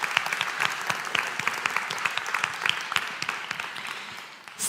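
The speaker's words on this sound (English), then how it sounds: "Yes, big round of applause." An audience gives a round of applause, brisk, crowded clapping that holds steady and then tapers off toward the end.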